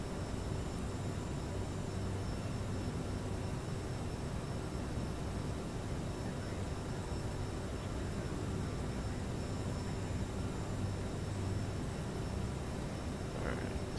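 Engine of a CRJ 700 jet airliner in a flight simulator, a continuous broadband roar with a faint steady whine, even and unchanging for the whole stretch, no talk.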